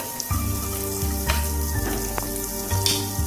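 Garlic sizzles steadily in hot refined oil in a wok, a loud, close, continuous frying crackle with occasional brighter pops and some low hum beneath.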